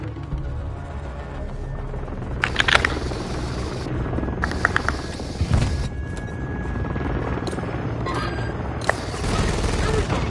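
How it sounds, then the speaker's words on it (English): A helicopter drones overhead in Call of Duty Modern Warfare 2, its steady rotor rumble running underneath scattered bursts of automatic gunfire and occasional booms. "Friendly Overwatch helo in the area."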